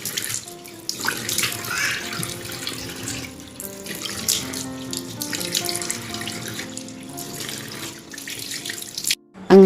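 Tap water runs continuously into a sink as a face is washed, a steady splashing rush with shifting tone that cuts off abruptly near the end.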